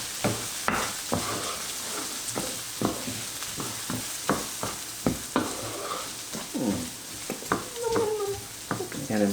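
Rice is stirred in a saucepan with a spoon, giving a series of sharp scraping clacks at an irregular rhythm over a soft sizzle, with some talking now and then.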